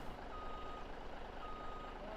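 A truck reversing in the Farming Simulator 17 video game sounds a steady, evenly spaced electronic beep over a low engine drone.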